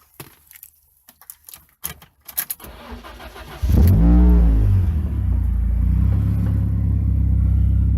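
A drift-build project car cranks over and fires up, the engine catching into a loud, steady idle with a brief rev; clicks and switch noises precede the start, no one talking.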